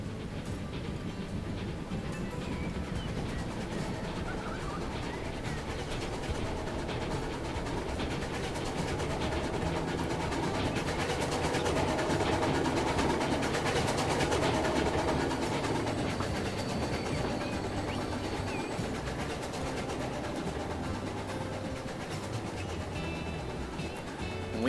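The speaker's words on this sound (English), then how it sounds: "If I were driving this train, I would not have taken the switch that fast." A train with a rigid-framed engine running over a rail switch in Transport Fever 2, a steady rolling rumble and clatter of wheels on track, continuous and moderately loud, swelling slightly midway, with no talk.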